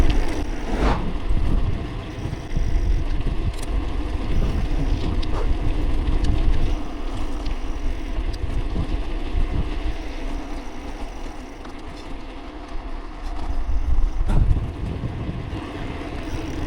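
Wind buffets an action camera microphone on a bike ride through the Sea Garden in Burgas, continuous low rumbling gusts with occasional sharper thumps and no talking.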